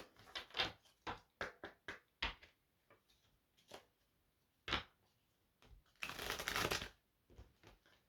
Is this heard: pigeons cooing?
no